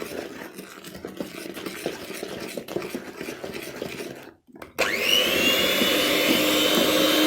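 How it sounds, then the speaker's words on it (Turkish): An electric hand mixer works through cake batter with flour and cocoa: after some light clatter and a brief pause, the motor switches on with a rising whine, then holds a loud, steady whirr to the end. "Önce mikserimizle şöyle bir karıştıralım."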